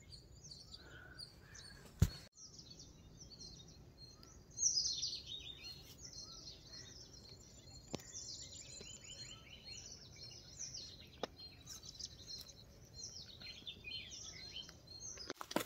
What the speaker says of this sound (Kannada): If I keep quiet birds ಎಲ್ಲ ಸೌಂಡ್ ಕೇಳಿಸುತ್ತೆ.